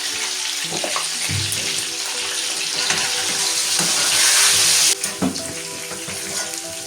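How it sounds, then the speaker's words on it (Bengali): Sliced eggplant sizzles and fries in hot oil in a pan, a steady crackling hiss with occasional stirring and clatter, loud and close with no voices. "বেগুনটা আমি হালকাই ভেজে নেব"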